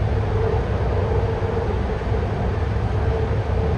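Steady, dense rumble and roar of a BART train on the orange line heard from inside the cab, continuous and loud with no talk, droning evenly throughout.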